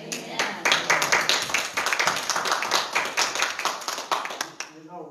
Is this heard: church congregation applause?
yes